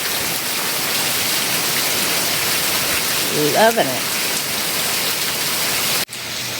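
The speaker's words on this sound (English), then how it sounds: "We've had some rain today." Steady rain falling outdoors on a wet day, a dense constant hiss of drops filling the background, with a brief voice speaking over it partway through.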